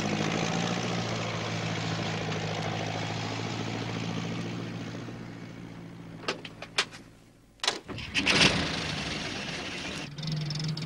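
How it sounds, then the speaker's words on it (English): A steady low tractor engine drone rumbles for several seconds, then a burst of clatter and louder mechanical noise breaks in near the end. "It was Alf Thompson on his tractor."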